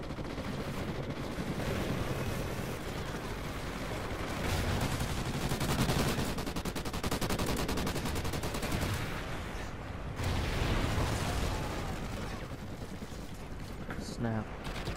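Rapid turret gunfire in a video game runs continuously as a dense, loud stream of shots, with a voice talking over it.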